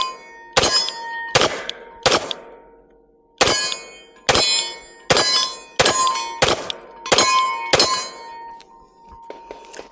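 Sharp metallic clangs of a pistol slide being dropped and racked by hand, about ten crisp impacts in an uneven rhythm with short gaps, close and loud with no talking.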